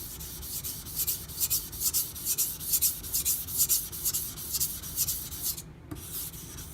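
An Aogami Super steel Karaku bunka knife being thinned on a whetstone with stone mud, making steady rhythmic gritty scraping strokes, close and fairly loud, about two per second, ending with a short pause.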